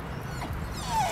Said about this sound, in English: Whole bunch of dogs.